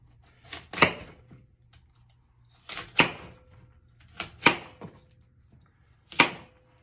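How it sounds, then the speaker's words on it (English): A knife cutting through a vegetable on a board: four or five sharp, crisp chops spaced a second or two apart, close and clear against near silence. "And then I'll cut down the sides."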